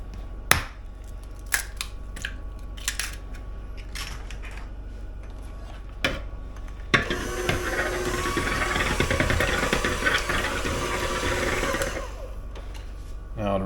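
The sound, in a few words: lightly beating two eggs in a bowl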